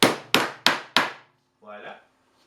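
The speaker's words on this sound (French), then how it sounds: "je vais taper avec mon marteau pour que la forme carrée" A hammer strikes a wooden mitre jig four times in a quick, even rhythm, each blow a sharp woody knock, followed by a brief quieter scraping sound.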